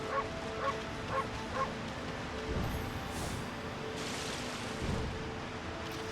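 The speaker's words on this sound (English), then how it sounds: "I forgot you could bark." A wolf in the video game Okami gives a run of short, evenly spaced barks at the start, followed by softer yips over steady, rain-like ambient game sound.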